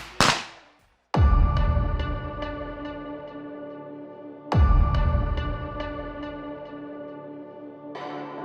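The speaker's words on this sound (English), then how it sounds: "You got to just swing that gun and shoot it." Two loud, echoing shotgun blasts at a skeet shooting range, each a sharp crack followed by a long reverberating ring, with a third shot starting at the very end.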